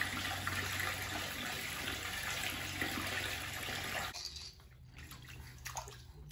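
Water gushes steadily from a hose into a big bathtub, a loud continuous splashing rush that suddenly drops to a quieter trickle and drips near the end, with no talk.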